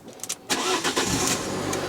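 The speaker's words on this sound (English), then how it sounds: "Let's go around to the car and see if it's actually going to start." A car engine cranks and fires up after being jump-started with a Grepro 3000-amp 12V emergency jump pack, with a few brief clicks followed by a loud catch that settles into a steady close idle.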